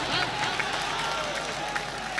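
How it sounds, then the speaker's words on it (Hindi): Audience at a poetry gathering in Madhubani claps to welcome a poet onto the stage, a soft, diffuse patter of hands that sits fairly far back and stays steady throughout. "सब खड़े होकर जोरदार तालियों से स्वागत कीजिए हामिद साहब का"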